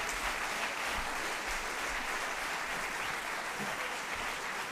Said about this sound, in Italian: un applauso ci vuole